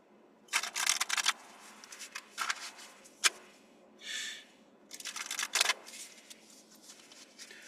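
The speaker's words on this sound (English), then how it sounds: "the cards that are showing as I'm shuffling are beautiful" Oracle tarot cards being shuffled by hand in several bursts of crisp riffling and flicking, with brief pauses and a sharp snap between them, close and fairly quiet with no talking.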